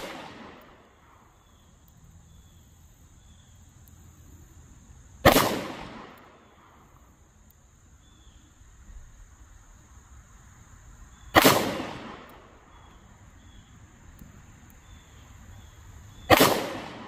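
Three sharp gunshots from a Smith & Wesson 442 revolver firing standard-pressure .38 Special rounds outdoors, spaced about six seconds apart with short decaying echoes, against quiet background hiss and faint insects.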